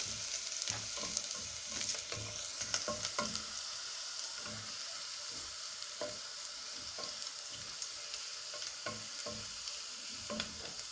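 Steady crackling sizzle of food frying in a pan, with repeated scraping clinks of a utensil stirring at an irregular rhythm, close by and no talking.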